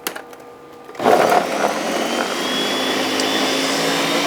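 Blender pulsing birria taco ingredients, broken into even quarters, kicks on abruptly after a quiet moment with a loud whirring roar that continues steadily, close up.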